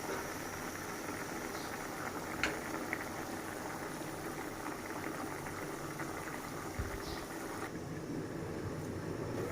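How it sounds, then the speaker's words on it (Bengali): Hilsa fish boiling in water in a covered pot for a Bengali mustard hilsa dish, giving a steady, quiet bubbling simmer that runs unbroken with no voices. "এবার একটু সময় 5 মিনিট সিদ্ধ হবে মাছটা জলের মধ্যে।"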